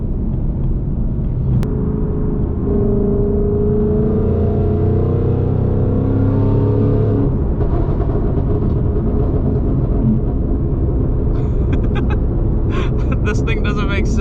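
A supercharged Ford Mustang GT accelerates hard through the gears, a loud continuous engine drone with rising whine from the supercharger and steady road rumble throughout, while someone talks over it.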